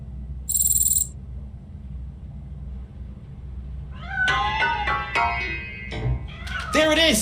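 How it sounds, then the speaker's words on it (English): A cat meows from hiding inside a piano in the game RoboCop: Rogue City, a few short harmonic cries coming in quick succession near the end over a steady low background hum, after a brief high tone early on. "That cat must be hiding inside."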